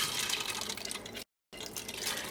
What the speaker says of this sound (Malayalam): നമുക്ക് സമയം കളയാണ്ട് തന്നെ ഈ പരിപ്പൊന്ന് കഴുകിയിട്ടെടുക്കുക.